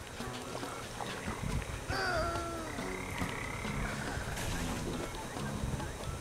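Frog monsters croak in the video game Mulaka, giving rough, honking calls repeated over a dense, continuous backdrop of game ambience, with pitched cries around the middle of the stretch.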